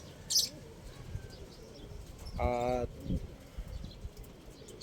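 A short, soft cooing note from a pigeon stands out against faint background noise, with a brief word spoken nearby.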